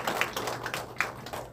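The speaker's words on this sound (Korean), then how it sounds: "힘찬 박수 부탁드리겠습니다" Audience applause at a Korean National Assembly forum on Fukushima treated-water discharge, a faint, brief burst of scattered clapping with uneven taps and no voices.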